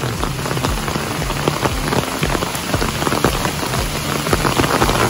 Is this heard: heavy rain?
yes